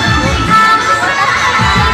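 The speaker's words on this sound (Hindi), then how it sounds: "पर्यावरण मेला रे भीड़ लगाव आर आगे को डांस ने दरे को" A loud crowd at an environment fair in Bhelwar, with children shouting and calling out together in a continuous, dense din close by.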